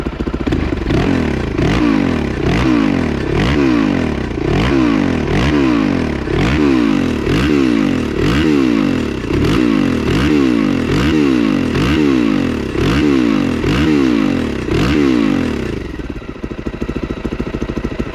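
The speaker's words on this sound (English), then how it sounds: "I'll show you real quick before I give it any revs." SSR 250S motorcycle fitted with a TTR 250 carburetor, revved repeatedly in a steady rhythm of loud throttle blips rising and falling, close and alone, settling toward idle at the end.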